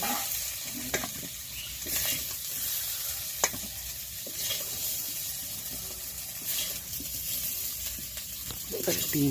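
Whole cumin seeds frying in hot oil for an egg curry, a steady close sizzle with occasional sharp pops and spatter, running continuously throughout.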